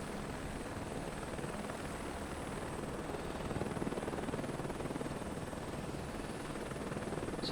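Helicopter flying in Microsoft Flight Simulator 2024, a steady close rotor and engine drone with a rapid chopping pulse, unbroken and without talk.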